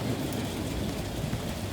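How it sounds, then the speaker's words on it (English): Heavy rain falling in Montana, a steady dense wash of noise with low rumbling, close and constant with no speech. "it's raining a lot."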